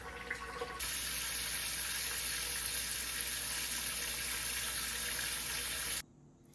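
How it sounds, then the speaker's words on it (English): A tap runs water into a pot holding seitan dough, a steady close rushing splash that starts abruptly after a quiet moment and cuts off sharply near the end, without talk. "I'm just going to fill up this pot just above the level of the dough"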